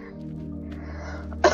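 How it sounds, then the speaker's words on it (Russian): A person with a lingering cough coughs once, sharp and close, right at the end, after a stretch of quiet low hum. "Этот кашель никак не проходит"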